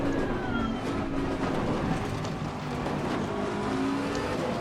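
Bentley race car in Assetto Corsa Competizione at Imola, engine droning steadily and loud as it accelerates, with a faint pitch sweep over the sustained roar.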